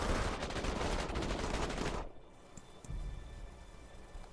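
Rapid automatic gunfire from human troopers fighting bugs in the Starship Troopers Terran Command strategy game, a loud dense burst for two seconds that cuts off, leaving scattered distant shots.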